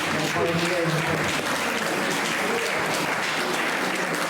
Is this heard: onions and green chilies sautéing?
no